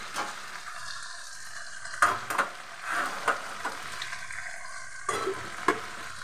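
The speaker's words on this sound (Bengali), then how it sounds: "এই দেখো ঢেঁড়স হচ্ছে" Okra (bhindi) sizzling in a pan, with repeated scraping and clattering strokes as it is stirred, close and moderately loud, no voices.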